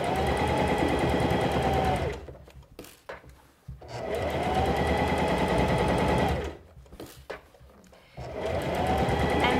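Singer Classic 44S sewing machine stitching a thick hem in a circle, running in three steady loud bursts with short quiet pauses between them.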